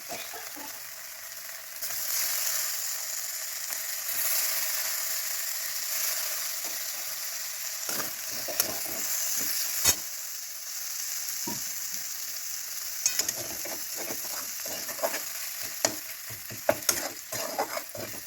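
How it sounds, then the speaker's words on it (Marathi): Tomato added to roasted masala sizzles in a pan while making a cluster bean and potato curry, a soft steady hiss with scattered scraping stirs and clatters growing busier toward the end. "मसाला भाजलाय. टोमॅटो टाकते."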